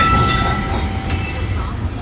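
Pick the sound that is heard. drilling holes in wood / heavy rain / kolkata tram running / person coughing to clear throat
kolkata tram running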